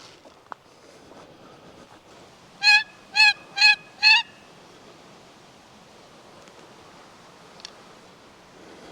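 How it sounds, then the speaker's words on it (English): A wild turkey gobbles four times in a rapid, rhythmic burst at moderate distance across a creek in Ontario, over a quiet outdoor background. "Oh yeah, he's gobbling hard."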